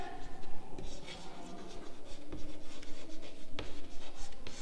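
Chalk or marker scratching on a board during a physics lecture, with quick tapping strokes and scraping in uneven bursts, close and fairly loud, with no clear talk.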